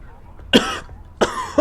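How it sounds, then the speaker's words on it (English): A person coughs with a hiccup: two sharp, close throat bursts a little over half a second apart, with quiet between them. "I hiccuped while coughing."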